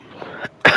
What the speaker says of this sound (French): Pardon si je tousse un peu les gars.